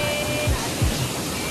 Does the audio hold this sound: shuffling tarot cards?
no